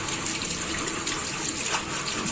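Water pours steadily through a fine net while straining hatched baby brine shrimp, a continuous close splashing trickle with no speech.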